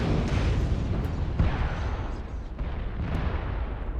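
Continuous barrage of missile explosions in the Mechwarrior Online game, a dense rumbling roar of overlapping blasts with a few sharper impacts standing out, loud and sustained throughout.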